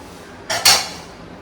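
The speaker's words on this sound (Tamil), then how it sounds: "இப்போ கடாய் வச்சுடுங்க." A kadai pan set down on a home kitchen stove, giving two quick metallic clanks close by, the second louder, followed by quiet room tone.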